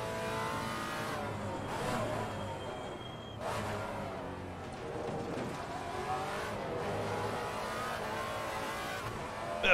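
Maserati MC GT4 race car in the Assetto Corsa Competizione racing game, its engine revving and shifting through gears with steady loud drone, rising and falling pitch, other cars audible around it.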